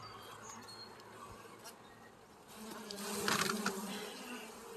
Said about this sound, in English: I'm going to shake these bees into this right here.